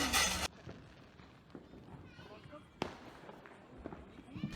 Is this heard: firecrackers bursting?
yes